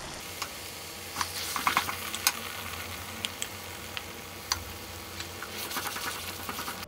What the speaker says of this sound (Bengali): ফোড়নগুলো ভাজা হওয়ার পর কদবেলটা ঢেলে দেব।